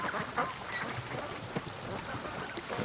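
A few ducks quack and call near a lake, with faint, scattered honks amid outdoor background noise, fairly quiet and brief.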